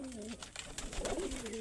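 Giribaz pigeons cooing on a farm, a pair giving soft rolling coos close by, a couple of short calls rising and falling over faint background noise.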